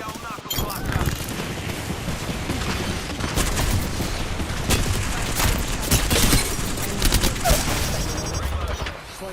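Knuckle cluster grenade explosions in a shooter video game: a dense, loud run of overlapping blasts and gunfire-like bursts that continues for the whole stretch, with voices talking beneath the battle noise.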